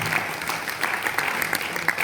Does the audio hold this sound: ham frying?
no